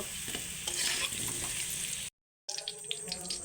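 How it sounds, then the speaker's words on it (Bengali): Steady hiss and crackle of potatoes frying in hot oil in a wok, with stirring scrapes; a brief silent gap, then the sizzling resumes close by. "দেখুন আলুগুলো ভাজা হয়ে গেছে"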